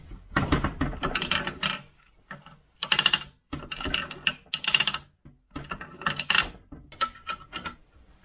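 AM6 moped engine kickstarter being worked on the bench, repeated ratcheting mechanical clicks and clatters in short bursts with pauses between strokes, close up.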